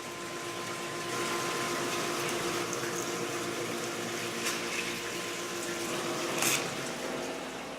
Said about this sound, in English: It appears to be a synthetic coolant mixed with water that is recycled through the machine.